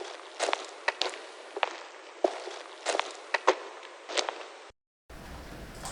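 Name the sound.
drum loop from a sample kit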